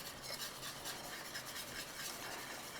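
A whisk works quickly through a creamy sauce of whole grain and Dijon mustard, giving a soft, rapid, rhythmic scraping that stays quiet and continuous for a few seconds.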